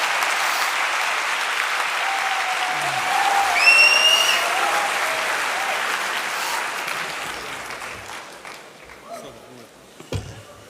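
Sustained audience applause for Dr. Jordan Peterson at a lecture in Israel, a dense steady wash of clapping that swells around the middle, then thins and fades toward the end with a few scattered claps.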